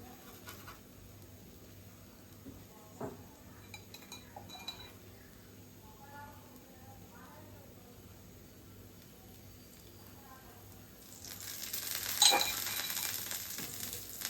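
Millet adai cooks on a griddle with oil poured around it, soft clinks and scrapes of a utensil over a faint sizzle that swells into a louder hiss near the end.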